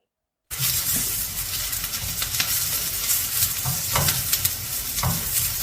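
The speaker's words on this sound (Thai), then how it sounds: "ต่อมาก็นำ พริกหวานนะคะ แล้วก็หอมใหญ่ลงผัดกับเนยเหมือนกันค่ะ" Bell peppers and onions sauté in butter in a pan, a close, continuous sizzle with scraping stirs and occasional clacks, starting abruptly after a brief silence.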